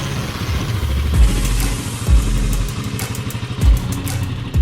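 A 500cc single-cylinder side-valve motorcycle with girder forks and a magneto runs close and loud, its engine thumping in a steady, lumpy rhythm with periodic heavier pulses.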